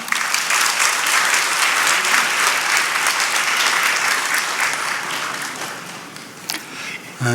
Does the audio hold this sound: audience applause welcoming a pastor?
yes